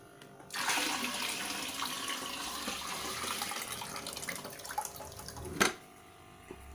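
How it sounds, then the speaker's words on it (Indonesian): Nitrobacter and lime solution pours from one bucket into a holding bucket, a steady splashing stream of liquid lasting several seconds before stopping abruptly with a final slosh. "cairan nitrobakter dan kapur ini yang sudah larut di ember kita tuangkan ke ember penampungan"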